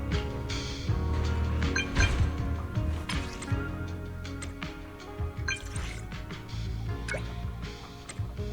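Water dripping and splashing at a sink while a face is washed in a video game, a steady run of small drips and clinks over a low musical background.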